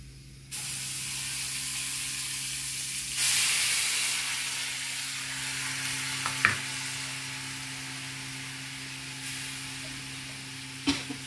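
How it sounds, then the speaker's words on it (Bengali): Nigella seeds sizzle in hot mustard oil, a steady broadband crackling hiss that rises once the seeds go in and holds loud and close, with a few sharp pops and spits near the end and no talking. "কালো জিরে ফোড়ন"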